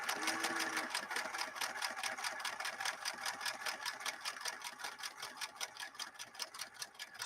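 A Singer Merritt 1872 sewing machine zigzag stitching on Naugahyde runs a steady, rapid mechanical chatter of regular needle strokes, quick and close, with no voices.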